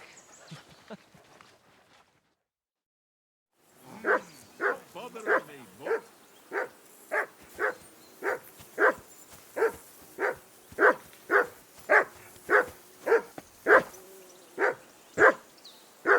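A dog barks repeatedly in a medieval camp scene from Kingdom Come Deliverance 2, a steady run of evenly spaced, fairly loud barks after a short silence, with brief voices at the start.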